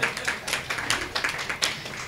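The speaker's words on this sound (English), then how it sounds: "Clap for him," Audience at a community meeting claps in a brief, uneven burst of distinct hand claps, fairly close and clear, with no talking over it.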